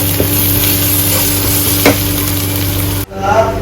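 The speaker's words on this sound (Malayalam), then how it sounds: "ഇനി നമുക്കിതൊന്ന് വീണ്ടും ഒന്ന് മിക്സാക്കി എടുക്കണം" A spiced chicken masala mixture for Kannur-style kalmas is stirred in a pan, giving a loud, close, steady sizzle and scraping with a few brief clinks and a sharp shift near the end.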